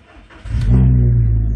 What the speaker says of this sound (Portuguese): Bora dar a partida aqui no carro.